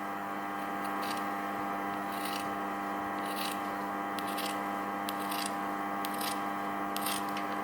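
Scissors snipping away half of a sewn fabric seam allowance, with about ten short, crisp cuts spaced roughly a second apart over a steady electrical hum.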